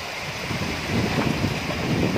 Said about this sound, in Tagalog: napakalakas pa rin ang hangin at ulan dito sa Caloocan.